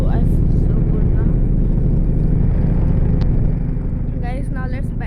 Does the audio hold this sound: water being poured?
no